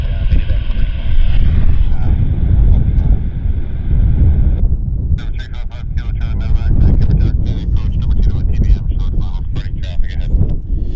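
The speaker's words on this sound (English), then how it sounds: "we've got a 37 taxiing out" Boeing 737 airliner taxiing out at Vancouver Airport, a loud continuous low engine rumble with wind buffeting the microphone and a voice talking over it.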